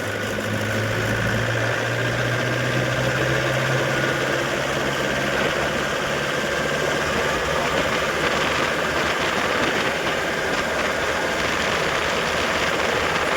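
A tractor engine idles steadily with a low, rumbling, vibrating drone that holds constant and fairly close throughout, with no talking.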